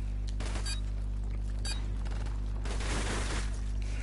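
Rapid bursts of gunfire in a Modern Warfare Remastered prop hunt match, sharp volleys crackling over a steady low game hum, with scattered shots through the clip.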